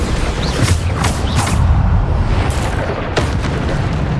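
Bombarda spell blasts in Hogwarts Legacy land as heavy, loud booms with a dense low rumble, punctuated by several sharp explosive cracks spread across a few seconds.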